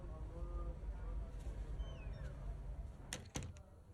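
A door shuts with a couple of quick, sharp knocks near the end of a quiet F1 25 cutscene, following a low indoor hum with faint voices.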